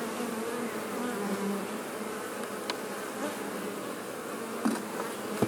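Honeybees hum in a dense, steady drone as the hive is closed back up, with a few soft knocks of the boxes near the end and no talk.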